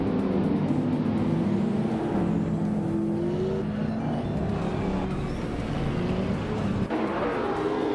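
Race cars in a racing video game launch from the start at an oval circuit, led by a 2015 McLaren 675, engines roaring loudly and continuously as they accelerate away, with brief tire squeal in the mix.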